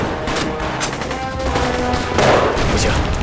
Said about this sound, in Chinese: 是重机枪声